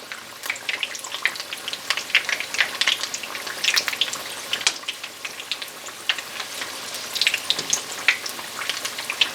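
Gluten-free onion rings fry in oil, crackling and popping close by in busy bursts of sizzle that rise and fall, with no one talking over them.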